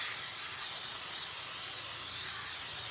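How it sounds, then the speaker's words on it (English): A steady, continuous hiss of cooking spray from an aerosol can onto a baking pan, close and uninterrupted for a few seconds. "I'm going to spray the pan so it doesn't stick too much."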